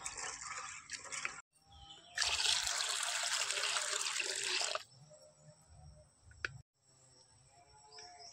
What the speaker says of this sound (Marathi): ह्यो साबुदाणो हा ना तो मी 2 वेळा स्वच्छ पाण्यात धुवून घेतलंय